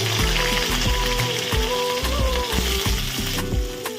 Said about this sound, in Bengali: আমি আবার এখন কড়াইতে তেল দিয়ে দিলাম। প্রথমে আমি উচ্ছেগুলো ভেজে নিই।